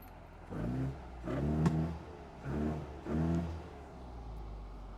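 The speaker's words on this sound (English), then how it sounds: "The engine is running, and it's running pretty sweet." A classic Mini's engine, freshly restored with an automatic gearbox, revs in several rising bursts that return to a low idle between them, heard close and alone with no talk.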